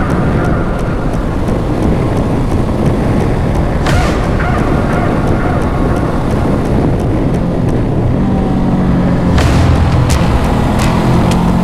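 Motorcycle riding along a desert road, a steady loud rumble of engine and road noise heavily mixed with wind buffeting the microphone, continuous throughout with a slight shift in tone near the end.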